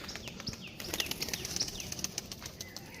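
Domestic pigeons taking flight together, with a dense, rapid flutter of many flapping wings close by, punctuated by sharp wingbeat claps and faint chirps, continuing steadily throughout.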